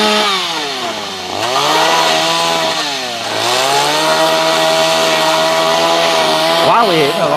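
A chainsaw engine roars steadily close by high up in a tree, its pitch dipping and rising as the blade bites into a tree branch and then revs freely.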